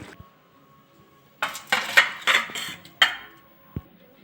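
Pot of fish curry lifted off a stove, heard as a series of loud close metallic clanks and scrapes of cookware, then a final short knock after a pause.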